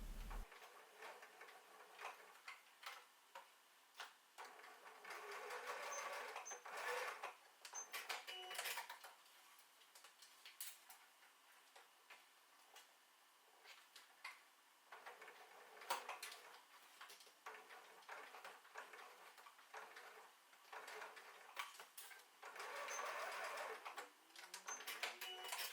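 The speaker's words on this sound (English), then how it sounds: "Then sew them down using your sewing machine." A sewing machine stitches down the folds of a recessed zipper tote bag. Short runs of rapid mechanical ticking start and stop with brief pauses, close by and moderately quiet, with no talking.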